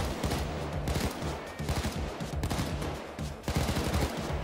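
Rapid gunfire from the video game Payday 2, with bursts of automatic shots and single cracks in quick succession, loud and continuous over several seconds with no voices.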